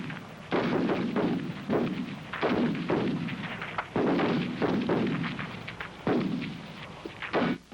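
C7 rifle firing in rapid bursts on a 100 m range, sharp loud reports repeating in clustered volleys with short gaps, each crack followed by a brief echoing tail.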